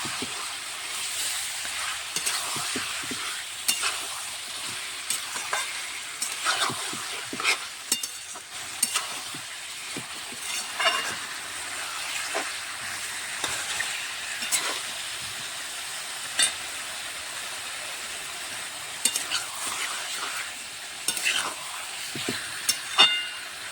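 Ginger-garlic paste fries in a pan with a soft, constant hiss, broken by frequent scraping clicks and knocks as a spoon stirs it, close and fairly quiet, with no voices.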